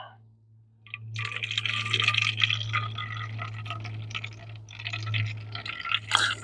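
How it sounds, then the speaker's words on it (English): Rainwater poured into a container for treating mold on store-bought wood: a steady splashing, trickling pour lasting several seconds over a low constant hum, with no speech. "Adding our rainwater."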